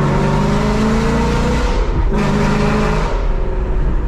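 A Ford Mustang with Kooks headers and a Corsa Xtreme exhaust revs hard under aggressive throttle. The loud, raspy exhaust climbs, dips briefly at a gear change, then pulls again.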